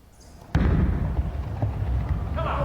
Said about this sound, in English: Carries all 10 for 7 strikes in a row.